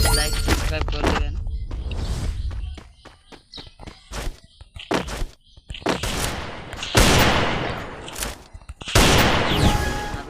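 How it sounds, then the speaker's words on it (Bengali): Gunfire in a shooting video game, with loud sharp shots and rapid bursts in irregular clusters, some dense fusillades, with footstep-like thuds between them and no talk. "ফায়ার ট্রাই করতেছি একটা হেডশট দিয়ে দিলাম"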